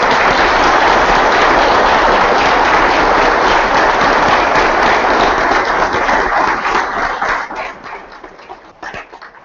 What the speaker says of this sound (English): let's give all of these candidates a round of applause.